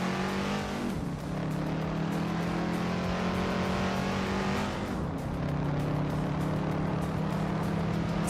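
Several race cars in a video game race drone steadily at high revs, engine pitches sliding down and back up as cars pass and shift gears, a loud unbroken roar with no voices.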